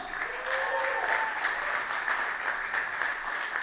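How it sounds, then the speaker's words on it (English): Audience applause fills the space, dense steady clapping at a consistent moderate level throughout, with no voices standing out over it. "Round of applause once again for Full Score."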